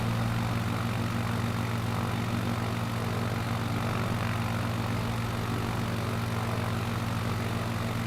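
A propeller airplane drones steadily and loudly in Flight Simulator, its engine hum flying low past without a break, with no talk over it.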